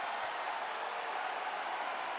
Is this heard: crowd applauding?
yes